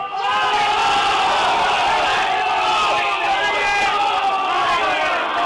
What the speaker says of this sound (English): The crowd absolutely going ape droppings behind me.